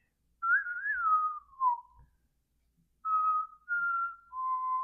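Someone whistles a short, wavering tune, pauses, then whistles a few more held notes, clear and alone in a quiet room.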